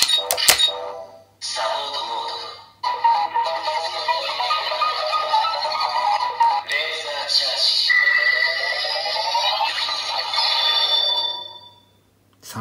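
Support-move sound effect of a Memorial Laser Raise Riser toy, played as a long, loud electronic sequence of chiming tones and swooping synth sweeps with a brief break, then fading to near silence at the end.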